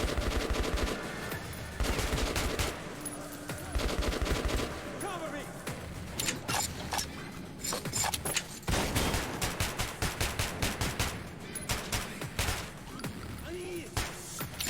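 Rapid, loud bursts of automatic gunfire from a weak gun in Metro 2033, fired at a bandit in the underground tunnels, with shots crackling in quick irregular clusters almost without pause through the whole stretch.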